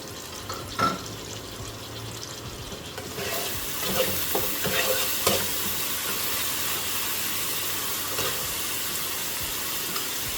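Chopped onion hits a hot pan for a chicken bharta, a quiet start giving way after a few seconds to a steady, fairly faint sizzle with a few soft stirring clicks.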